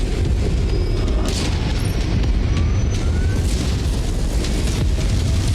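Dense, continuous barrage of LRM missile launches and blasts in MechWarrior 5: Mercenaries, loud rumbling booms layered with streaking whooshes and crackling bursts that never let up across the whole stretch.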